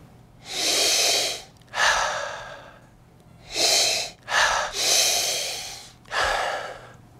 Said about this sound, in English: if you sniff harder and faster, you get more information about what the wine smells like. So you have to sniff hard.